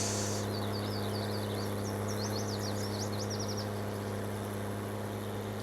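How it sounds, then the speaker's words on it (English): A tractor engine idles in Farming Simulator 19, giving a constant, steady low hum throughout while bird chirps flit above it for a few seconds. "Such a loud tractor."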